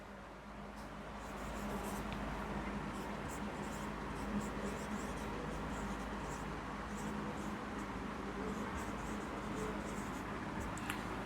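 Marker or chalk scratching across a classroom board in steady strokes, close and continuous over low room hum, with no voices.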